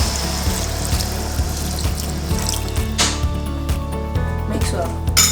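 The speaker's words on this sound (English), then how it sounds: "Lastly, add your boiled vinegar." Boiled vinegar poured into homemade fish pickle, a steady wet pouring and splashing sound running throughout at close range, with faint background noise and no talk.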